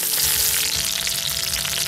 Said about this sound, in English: Sear them to lock in the moisture